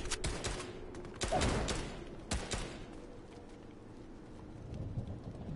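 Distant gunfire in Fortnite, with several sharp cracks and short bursts spread irregularly across the clip, muffled by distance over a low rumbling background.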